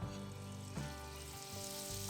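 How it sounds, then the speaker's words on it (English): Butter and a generous amount of oil sizzle in a pan while heating to sear a steak. A steady, continuous frying hiss with a faint low hum runs throughout, with no talking. "Hear it sizzling"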